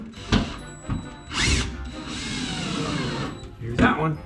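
A power drill driving screws while an electrical outlet is installed for a 220 V coffee maker, heard as short whirring bursts at close range, then a longer sustained run of the motor.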